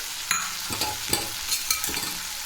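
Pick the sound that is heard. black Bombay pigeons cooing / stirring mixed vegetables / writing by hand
stirring mixed vegetables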